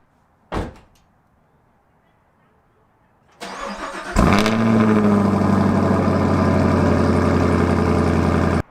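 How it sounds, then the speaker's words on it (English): A car door thunks shut, then a Chevrolet Camaro SS 1LE's V8 cold-starts with a sharp roar through its exhaust and settles into a loud, rumbling high idle. "Check out this cold start."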